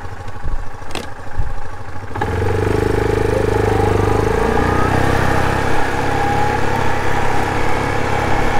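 Farm tractor engine idling loudly and close, a steady rumbling drone that starts after some brief clatter and knocks, then runs continuously without talk.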